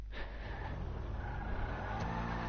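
A car engine in a video game idles with a low, steady rumble throughout, fairly quiet and with no rise in revs.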